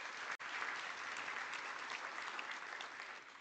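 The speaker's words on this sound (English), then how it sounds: "Let's give a warm round of applause." A warm round of applause fills a conference hall at an oil and gas event, a steady dense wash of many hands clapping for a few seconds with a brief dropout near the start.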